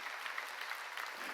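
A congregation at a church summer revival meeting claps in a brief, dense burst of applause that fills the room.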